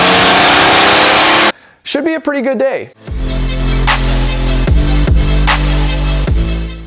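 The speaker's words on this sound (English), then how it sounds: "we're going to be able to hear this car's fully straight piped exhaust screaming on the dyno" A turbo diesel Mercedes with a tune and fully straight-piped exhaust runs on a dyno toward about 5,000 RPM. A loud roaring burst comes first, then a voice speaks, then a steady, close droning engine note with several brief dips.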